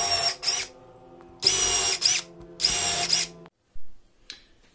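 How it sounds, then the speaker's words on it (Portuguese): A power drill bores a pilot hole with a bit thinner than the screw while assembling a rustic table with metalon legs, in three loud whirring bursts with short pauses, then a brief final spin. "Bom, então vamos fazer o furo aqui. Sempre uma broca, né, mais fina do que o parafuso."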